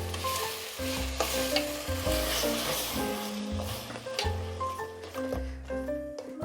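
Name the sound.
sautéing onion, tomato and ginger garlic paste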